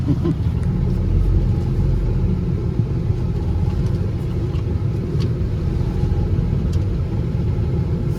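A truck cruises along a quiet rural road in Medina, Texas, a steady loud engine and road rumble filling the cabin throughout.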